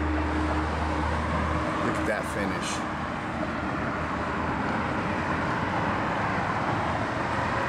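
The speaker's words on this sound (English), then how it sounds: "It's a little noisy because I'm out here by traffic business" Steady road traffic noise beside a business lot where a car's overspray is being polished off, a continuous broad rumble and hiss throughout, with someone talking close over it.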